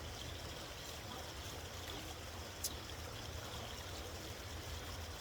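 A shallow stream flows beside a riverbank, a soft steady trickling murmur at low volume that continues without a break, with no one speaking.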